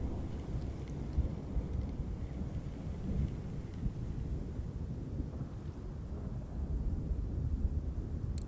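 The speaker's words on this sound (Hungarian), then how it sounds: "ezekkel a dörgésekkel." Thunder rumbles low and steady in the Russian Fishing 4 video game, with rain and wind noise filling the background throughout, no voices present.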